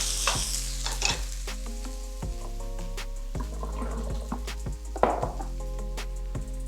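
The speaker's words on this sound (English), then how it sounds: "And I'm gonna blend this so it's super creamy and delicious and there's no grit from the nuts" A high-speed blender blends nuts into a creamy mix, its motor a loud, continuous whir that shifts pitch in steps, with no talking.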